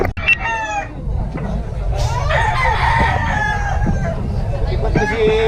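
Roosters crow repeatedly at a busy festival expo, their rising calls carrying over a steady crowd murmur and scattered clucking, with people talking nearby.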